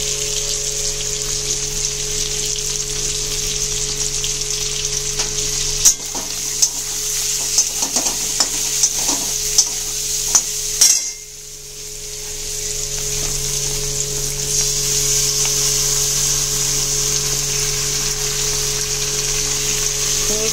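Chicken sizzles steadily in a pan as sauces are added, with bursts of stirring and spoon scrapes through the middle and a brief pause before the frying hiss returns alone.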